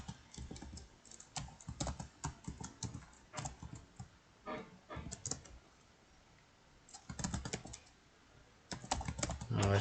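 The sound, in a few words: typing a password on a computer keyboard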